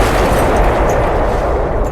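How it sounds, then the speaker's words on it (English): A loud, dense cartoon explosion blast fills the moment with a sustained booming roar, close and alone. "Did I hear an explosion?"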